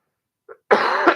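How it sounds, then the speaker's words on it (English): A person with a cold gives a short, faint throat sound and then one loud, close, harsh cough, heard alone against silence. "pardon for all the coughs"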